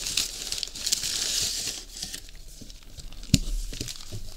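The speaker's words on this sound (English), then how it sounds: "It's a lot of paper." Paper packing material crinkles and rustles close up as a premium button lock knife is unboxed, with continuous crackling handling and a sharper thump near the end, no talk.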